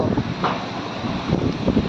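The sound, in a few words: strong storm wind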